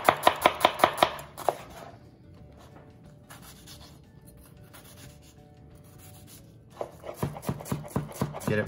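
A knife dices a quarter of an onion very small on a cutting board: a quick burst of rhythmic chops, a quiet pause, then another fast run of sharp, close taps.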